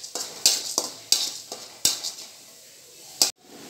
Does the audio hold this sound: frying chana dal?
yes